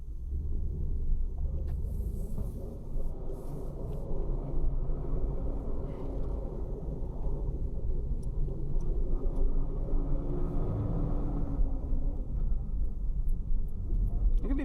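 A manual car's engine drones steadily after a clutchless float shift into third gear, a continuous low rumble with road and cabin noise, loud and even throughout with no talk.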